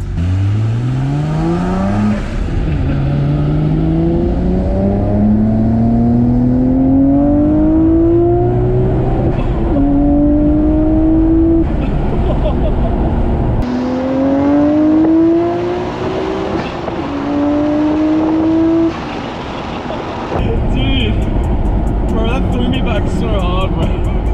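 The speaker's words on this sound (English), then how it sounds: "Just flooring it in an R34 GTR." A Nissan Skyline R34 GT-R at full throttle, its turbocharged engine climbing through the revs in repeated rising sweeps with gear changes between them, loud and close, with turbo boost noise and voices talking throughout.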